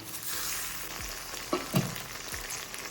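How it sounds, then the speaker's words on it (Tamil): Sautéed onions with four freshly added chopped tomatoes fry in a pan, giving a steady close sizzle with a couple of sharp stirring knocks in the middle. "வெங்காயம் நல்லா வதங்கிடுச்சு தக்காளி கட் பண்ணி வச்சுருக்கேன் நாலு தக்காளி சேர்த்துருக்கேன்"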